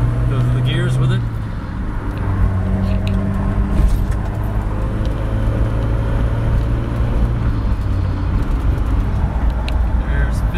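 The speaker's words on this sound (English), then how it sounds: "I want to at least be able to go through the gears with it." A 1989 Geo Tracker driving on the road and running up through its gears, engine hum and road noise steady and close throughout with rising and shifting tones, while a person talks over it.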